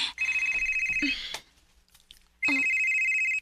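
Telephone ringing indoors, two bursts of a bright electronic ring separated by a short pause, with a brief faint voice in the gap between them.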